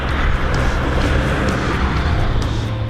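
Heavy vehicle rumble from an exceptional transport convoy hauling giant components for 15 MW wind turbines, a steady, loud rolling road noise that holds constant throughout.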